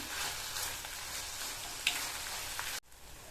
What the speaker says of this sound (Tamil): தக்காளி நல்லா வதங்கி வரணும் நல்லா வதங்கி சுருங்கி தொக்கு பதத்துக்கு வரணும் அது வரைக்கும் நம்ம வதக்கிக்கலாம்